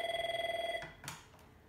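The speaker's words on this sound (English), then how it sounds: "First, we start with an incoming call." Incoming call ringing on an AVAYA 1416 IP Office desk phone, a warbling electronic ring pulsing rapidly for under a second, then cut off as the handset is picked up with a couple of clicks.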